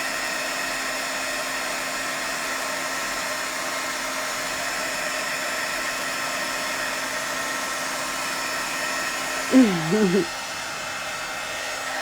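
A heat tool blows steadily at close range while embossing powder is melted on a handmade card, a constant hairdryer-like whir with a brief voice near the end.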